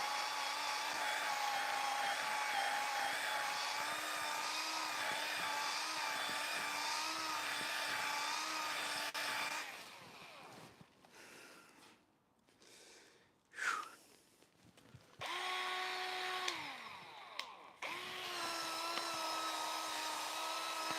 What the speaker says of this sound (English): The only thing I don't really like about this polisher is that you can't lock it on